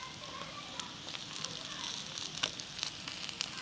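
Masala sizzles steadily in hot coconut oil for a spicy fish fry, a close, even hiss broken by sharp little crackles and pops.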